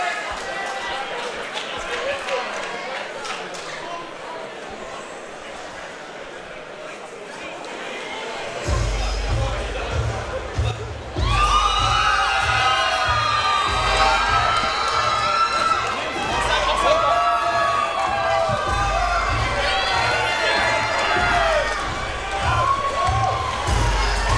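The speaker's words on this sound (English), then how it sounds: "An equally warm reception here for Daniel Ross, fighting in front of his hometown crowd" Crowd at a Southport Sharks MMA event cheers for a hometown 19-year-old fighter walking out, a loud steady roar of shouts and whoops building midway, with an announcer talking over it and a thumping low beat underneath.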